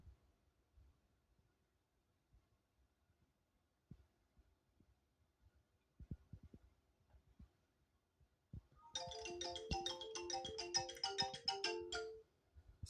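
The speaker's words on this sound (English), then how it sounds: "Such a jolly success ringtone ish kind of thing." A bright, jolly success chime plays when a software process finishes. It is a cheerful run of melodic tones lasting several seconds, heard after a stretch of faint, near-silent clicks and rustles.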